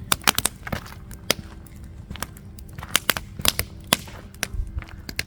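A green-wood campfire burns in a log-cabin style fire lay, giving off sharp, irregular pops and crackles in quick clusters over a low, steady background rustle.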